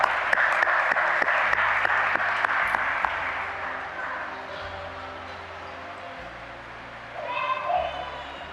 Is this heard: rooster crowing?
no